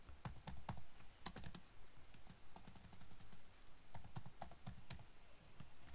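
Keys tapped on a computer keyboard while entering code in MATLAB Online, a quiet, irregular run of close clicks with brief bursts and pauses and no talking.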